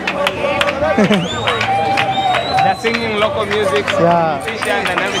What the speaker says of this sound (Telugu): ఇలాగా మొత్తం క్లాప్స్ కొట్టి అయితే పిలుస్తున్నారు